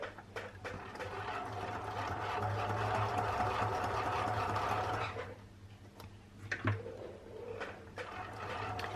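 A sewing machine stitches in an invisible zipper, a quiet, steady whirring run lasting about five seconds, followed by a pause and a few faint clicks and handling sounds.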